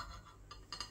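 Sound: knife cutting a microwaved steak pie in half

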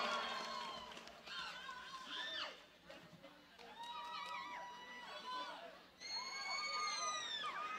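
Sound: audience clapping and cheering for the musicians at a concert

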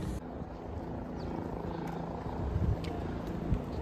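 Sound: helicopter flying over Kedar valley

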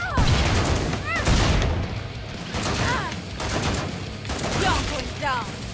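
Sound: gunfire in Killing Floor 2 video game

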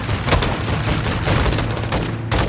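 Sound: gunfire in video game Call of Duty Modern Warfare 2

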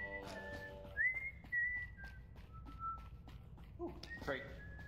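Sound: whistling in the video game Lockdown Protocol

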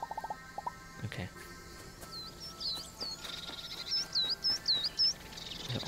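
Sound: birds chirping in the video game Alba: A Wildlife Adventure

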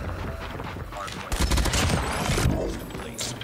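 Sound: Saber rifle gunfire in Call of Duty Mobile video game

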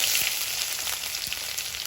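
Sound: chopped ginger frying in hot oil in a wok

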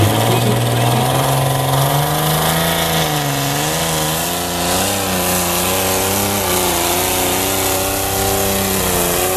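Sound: tractor pulling engine

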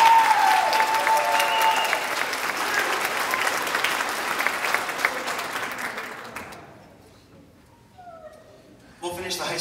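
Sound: applause

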